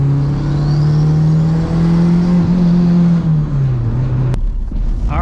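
A damaged triple-turbo Honda Civic engine held above 2,000 rpm gives a loud, close, sustained droning hum with a whining turbo tone, its pitch wavering slightly before dropping away near the end.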